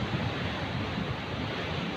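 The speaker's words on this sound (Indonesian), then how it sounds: "Tuh, ombak-ombaknya juga ekstrim" Rough ocean surf crashing on Karapyak beach in Pangandaran, a steady loud roar of breaking waves with wind noise, no voices.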